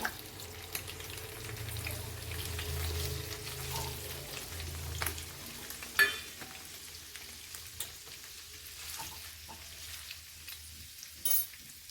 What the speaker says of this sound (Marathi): आपण तेलामध्ये मस्त शॅलो फ्राय करून घेऊया पनीर